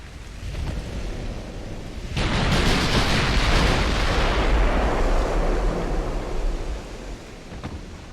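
Battleship main guns firing in Ultimate Admiral: Dreadnoughts, a sudden deep boom followed by a long, loud rumbling roar that holds for several seconds and slowly fades, with a fainter thud near the end.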